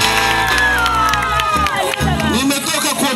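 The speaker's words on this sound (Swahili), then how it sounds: "Makofi na vigelegele." A crowd at a Christian crusade gathering in Uvira cheers loudly and steadily, with shouts and high trilling cries blending into a dense, continuous roar that fills the whole stretch.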